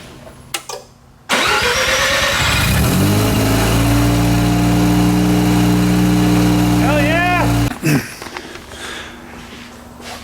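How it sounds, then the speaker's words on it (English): A car engine cranks and catches after being jump-started from a Milwaukee power-tool battery, then runs at a steady, loud idle for several seconds before cutting off abruptly, with brief talk before and after. "I was able to get the car jumped with the Milwaukee battery connected"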